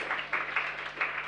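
An audience applauds at the opening of a health hackathon, with a steady wash of clapping that swells in short bursts and stays fairly quiet and distant throughout.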